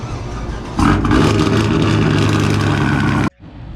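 Car engine cranking and catching, then a loud sustained rev with a deep throaty rumble close by, cutting off abruptly to a quieter idle-like tail.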